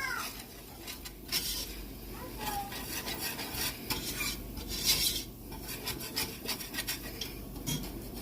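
Milk is whisked into a roux in a pan for a mac and cheese, with repeated scraping and rasping utensil strokes against the pan in an uneven rhythm, close and moderately loud.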